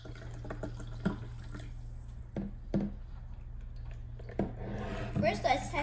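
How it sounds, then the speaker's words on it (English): Essentuki No. 17 natural mineral water from Russia poured into a container, with faint trickling and drips and a few clinks under a speaking voice and a steady low hum. "Let's pour some water in."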